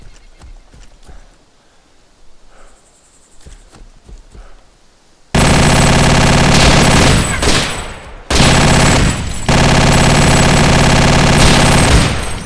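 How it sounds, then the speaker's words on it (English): Sustained, loud automatic fire from an MG3 heavy machine gun in ARMA 2 DayZ, starting abruptly after a quiet stretch and running as dense continuous bursts with one brief break. "but then I found myself a big boy MG3 heavy machine gun"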